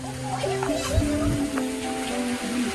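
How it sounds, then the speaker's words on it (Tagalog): Heavy rain falls in a steady, dense wash of hiss close by, with voices talking over it and the downpour holding constant throughout. "Ang lakas ng ulan."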